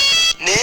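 A mobile phone ringtone going off indoors, a loud, close, bright electronic tone in two short bursts split by a brief gap, sounding alone.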